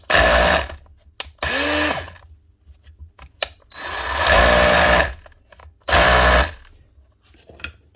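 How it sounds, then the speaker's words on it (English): A DeWalt DCH253 SDS rotary hammer drill, sounding weak in the hammer, runs in several loud bursts, each a rough, rattling whine lasting about a second, separated by brief pauses. "Next up is a regular DeWalt SDS tool."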